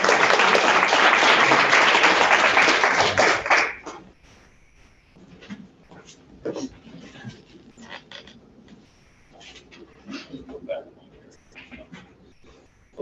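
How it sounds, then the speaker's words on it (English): Audience applause at a native plant society talk in Dallas, a dense burst of clapping lasting about four seconds before stopping abruptly, followed by quiet room sounds and brief handling noises. "Please give a round of applause to Dusty."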